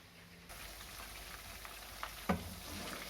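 Chicken 65 pieces fry in hot oil, a faint steady sizzle that starts after a brief quiet moment, broken by a single sharp clink of a utensil, no voices.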